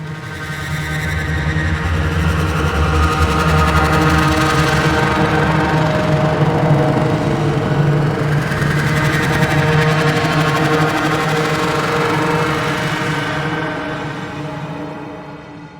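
Dense synthesized soundscape designed in Ableton Live 11, a thick droning texture with layered hum and buzzing tones that swells in, holds steady and loud for most of its length, then fades out.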